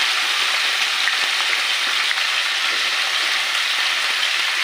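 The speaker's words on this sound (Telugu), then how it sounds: "ఇప్పుడు ఈ ముక్కలన్నీ సగం వరకు బాగా వేయించుకుంటానండి" Vegetable pieces fry in a hot pan for sambar, a steady dense sizzle with faint scrapes and clicks, close and even throughout with no voices.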